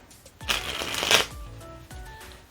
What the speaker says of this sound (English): The cards should start falling like that.